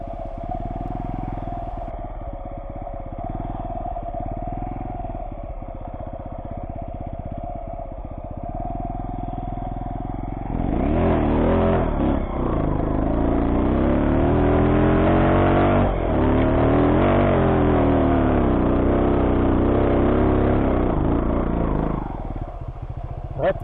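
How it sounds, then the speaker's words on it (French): A Sherco 125 TY trial motorcycle engine runs on an uphill ride, idling and chugging at first, then revving hard and labouring as it loses revs on the climb, with clattering over rough ground. "j'ai pas su garder le régime et en fait le moteur s'essouffle"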